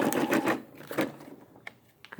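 A Brother SE600 embroidery machine stitching a quilt, a short burst of fast rattling mechanical stitching that stops, then a few faint clicks, close and alone.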